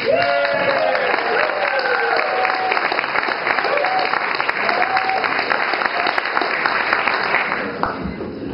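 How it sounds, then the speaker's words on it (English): Loud, sustained applause from a large audience at a poetry event in Nimbin fills the whole stretch, dense clapping with some cheering mixed in, tapering slightly at the end. "So please welcome loud round of applause for Daniel Pearson."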